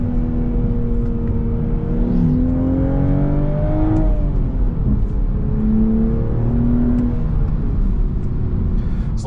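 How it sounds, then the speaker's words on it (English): A 2023 Toyota Supra with a manual gearbox, heard loud and close from the road as the engine revs, pulls through the gears and rises and falls in pitch steadily throughout. "let's take the Supra for a bit of a drive and give it a review."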